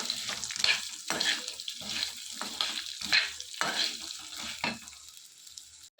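Coconut pieces frying with turmeric in a pan for a coconut chutney, a steady crackling sizzle broken by repeated scraping stir strokes, close and fairly loud, with no talking.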